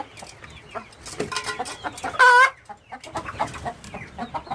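Chickens, about fifty, clucking and murmuring together in a coop in the evening, a steady busy chatter with one louder squawk partway through.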